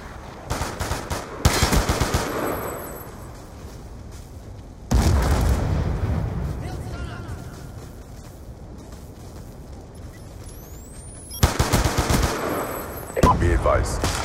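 Airstrike explosions and gunfire in a Call of Duty Black Ops 2 Kill Confirmed match on the Carrier map: loud bursts of gunfire and booming blasts come in three clusters with quieter rumbling stretches between them.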